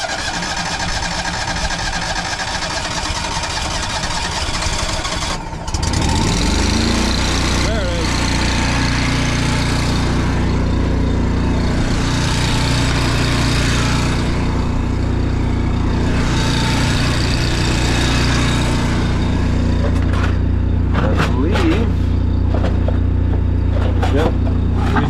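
An engine cranks over on a chilly day for about five seconds, then catches and fires into a loud, steady idle with deep low rumble, running close and unbroken to the end.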